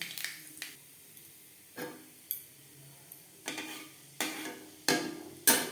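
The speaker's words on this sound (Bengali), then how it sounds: "ফোড়নে দিয়ে দেবো কালো জিরে।" Black cumin seeds crackle in hot refined oil in a pan, giving sparse, sharp pops and snaps spaced irregularly over quiet background, fairly faint and with no talking.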